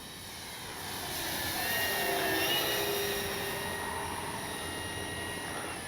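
An RC model Focke-Wulf Ta-152H warbird flies by, a moderate whining engine drone that swells toward a peak as it passes and then eases off slowly.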